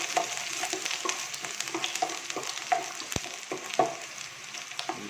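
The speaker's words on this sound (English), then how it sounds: "Garlic and ginger. Saute it a little bit more." Garlic and ginger sauteing in a pan while cooking dal with monggo, a steady soft sizzle broken by scattered clicks and scrapes of stirring, close and moderately quiet with no talking.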